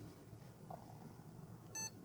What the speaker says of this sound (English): And that single beep signifies that there is successful post.